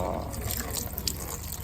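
Coolant pouring out of a junkyard LS engine that hydrolocked overnight, a brief splashing gush of liquid with voices nearby.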